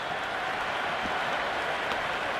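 Continuous broadband crowd roar and applause from a simulated stadium in a Big Bash cricket video game, Sydney Thunder versus Hobart Hurricanes, steady and dense throughout with no distinct voices.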